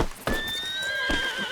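A horse whinnies in the Red Dead Redemption 2 game, a clear, drawn-out neigh rising after a sharp onset and trailing off, heard alone and close with faint hoof movement.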